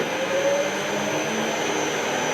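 A bandsaw runs at steady speed in a small repair workshop, giving a loud, even mechanical whine and whir with a constant high tone and no break across the whole stretch.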